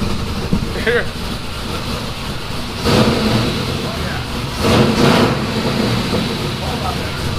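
A rumbling cammed LS1 V8 engine in an E36 BMW with a new single exhaust idles with a lopey, uneven rhythm, running slightly rich, swelling twice with short revs while voices speak over it.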